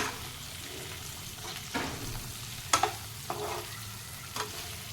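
Potato sabji is stirred in a frying pan, with a soft continuous sizzle and a few sharp scrapes of the spoon against the pan, close and fairly quiet.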